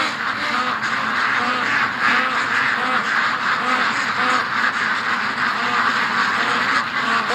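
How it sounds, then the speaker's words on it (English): A crowd of worked-up ducks quacks loudly and continuously nearby, their calls overlapping in a dense, unbroken chorus. "Holy moly, ducks."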